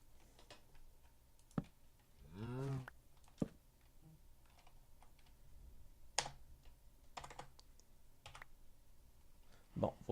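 Scattered clicks and taps from a computer keyboard sound sparsely across the stretch, some sharp and prominent. A brief voiced sound and faint room noise fill the gaps between them.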